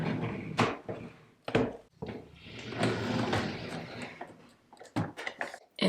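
A makeup drawer slides open and shut with several sharp wooden knocks and scrapes, interspersed with rustling and clattering of cosmetics being handled, close and fairly loud in a quiet room.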